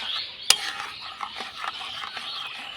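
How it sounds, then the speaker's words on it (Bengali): Kulfi malai mixture with cardamom powder stirred in a pot, a soft continuous scraping and swishing with one sharp utensil knock near the start, fairly close and alone. "একটু নাড়াচাড়া করে মিশিয়ে নেব"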